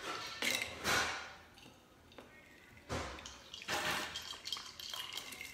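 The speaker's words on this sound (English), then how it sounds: "A little water to cleanse the palate." Water is poured into a whiskey glass at an Irish whiskey tasting, giving a few short splashing pours with pauses between them, close and fairly quiet, with no voices.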